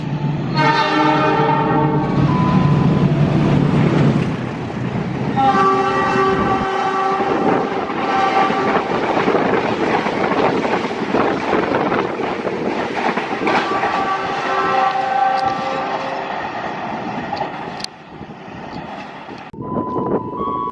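The Bangunkarta passenger train rolls past close by in Indonesia, wheels clattering steadily over rail joints with loud tonal horn blasts rising above the rumble.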